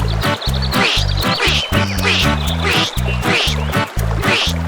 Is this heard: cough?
no